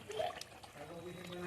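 Milk is poured into a pan of shukto, a Bengali vegetable curry, producing a soft liquid trickle and splash, fairly faint, with a quiet voice speaking over it.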